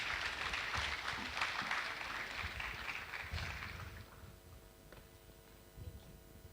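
Applause from an audience at a university technology week event, a dense wash of clapping that fades gradually after a few seconds, with a few scattered claps trailing off at the end.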